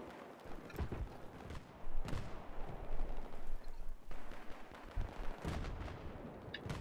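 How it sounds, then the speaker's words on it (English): Explosions and gunfire in the video game Battlefield, several heavy booming blasts and sharp cracks in a dense, continuous battle din, loud and close. "that was an explosion"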